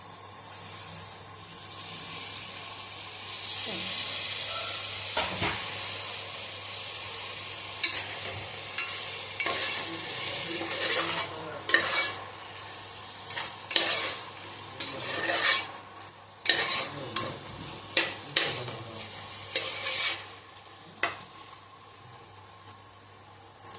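Paneer biryani masala sizzling and being stirred in a pressure cooker, a steady frying hiss broken by scraping spoon strokes and clatters, with no talking.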